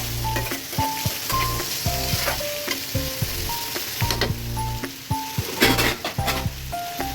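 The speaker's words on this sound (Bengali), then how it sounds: "কারণ একটু আলুটা আগে একটু ভেজে নিই। সাথে একটু কাঁচামরিচও দিয়ে নেব।" Potatoes and green chilies frying in a pan make a loud, steady sizzle, close by. Repeated scraping stirs and light clinks run through it, along with a low tonal hum from something nearby, and no one speaks.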